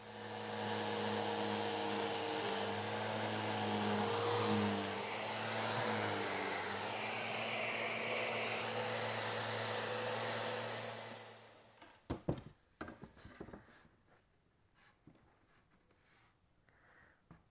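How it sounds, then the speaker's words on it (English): A Festool Rotex sander fitted with 40-grit paper sands boards with a loud, steady whirring drone for about twelve seconds, then cuts off, leaving scattered close knocks and handling clatter. "the Festool Rotex with some 40 grit on there just rips through these super quick"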